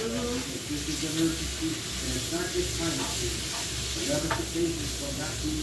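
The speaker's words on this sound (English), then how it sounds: "You can hear the sizzle of the pan." Turkey bacon sizzles and crackles steadily in a frying pan, a constant hiss with small pops, faint talk in the background.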